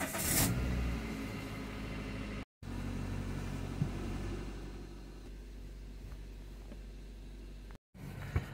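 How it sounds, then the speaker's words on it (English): A car engine idles while the vehicle sits stationary during a cable clutch adjustment, a low steady rumble with a louder burst at the start and two brief dropouts. "I've got the engine on, the car's just sat stationary as it is."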